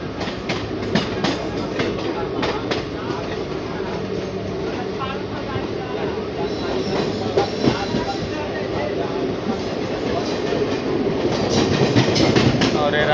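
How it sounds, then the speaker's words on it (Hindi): A Sampoorna Kranti Express train runs past at Rajendra Nagar station in Patna, with continuous loud rumbling and rhythmic clickety-clack of wheels on rails, while someone talks over it. "राजेंद्र नगर पटना से नई दिल्ली जाने वाली संपूर्ण क्रांति एक्सप्रेस"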